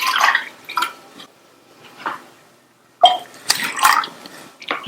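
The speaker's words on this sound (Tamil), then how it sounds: "இப்ப தண்ணி நல்லா கொதிக்குது." Water heats to a boil in a pressure cooker on a stove, ready for rice for pongal, in irregular close bursts of bubbling and sputtering broken by short quiet gaps.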